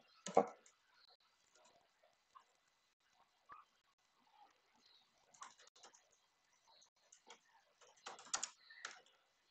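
Sparse clicks of a computer keyboard as text is typed into stock-management software, faint and irregular, in short bursts with pauses, in a quiet room.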